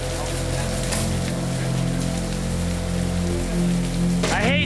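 Steady heavy rain patters hard on surfaces outdoors, a dense continuous hiss that stays loud throughout, with a brief rising whine near the end.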